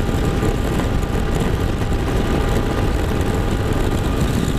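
A Honda CRF250L Rally motorcycle at highway speed gives a continuous loud engine drone blended with heavy wind rush, steady and unbroken throughout with no talking.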